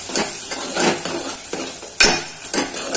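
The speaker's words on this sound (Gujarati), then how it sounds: "હવે હલાવી દઈશું" A spoon stirs gravy khichdi in a pot with repeated scraping and clinking strokes against the metal, loud and close, over a low simmering sizzle, with a sharper knock near the middle.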